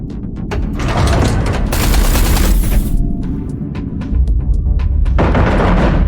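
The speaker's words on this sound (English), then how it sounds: "Eduardo, concentrate artillery fire on Blakemore's carrier." Artillery fire in the space-combat video game Everspace 2 rumbles as dense, loud, continuous barrages of booms and rapid gunfire bursts, with a roaring swell in the middle and no talk.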